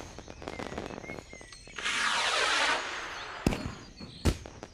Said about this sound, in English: Alright, so I can use firework again.